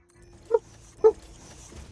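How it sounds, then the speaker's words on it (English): A dog barking outdoors gives two sharp, clear barks about half a second apart, followed by a fainter third yelp, with quiet background between them. "They hear a dog outside barking."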